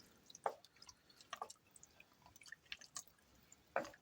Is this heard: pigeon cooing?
no